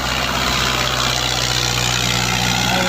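A New Holland 640 tractor engine runs under load in a field with a chisel plough, a steady loud diesel rumble with a constant low throb and no talk.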